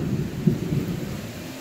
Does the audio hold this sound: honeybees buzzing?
no